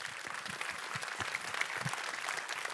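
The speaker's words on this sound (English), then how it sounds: "maybe a little applause for the team quickly" Conference audience at code.talks 2025 gives a short round of applause for the team, moderate clapping from a hall with a few louder individual claps standing out.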